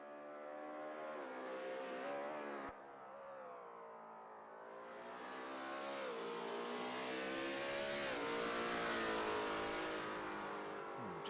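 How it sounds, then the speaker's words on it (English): A loud Corvette engine sound mod in a GT3 racing game at Yas Marina drones close and steady, revving up and down through gear changes with a brief cut, then building to a strong, harsh high-rev roar. "that Corvette sound mod is a little bit loud"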